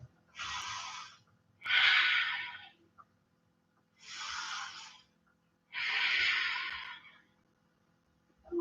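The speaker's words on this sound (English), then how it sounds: "We have 4 deep breaths" Deep breaths during yoga chair pose: four long, close breathy sounds alternating in and out, each about a second long with short pauses between.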